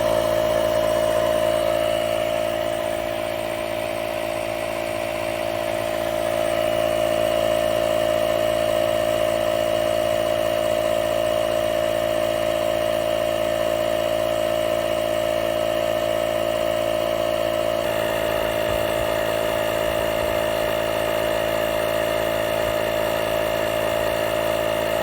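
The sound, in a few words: DeWalt cordless inflator or 60V air compressor running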